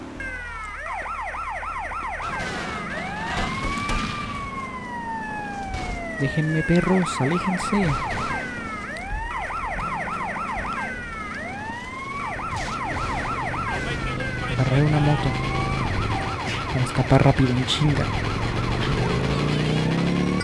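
A police car siren from GTA Liberty City Stories wails loudly and almost without pause in rising and falling sweeps, over game engine noise, while someone talks over it.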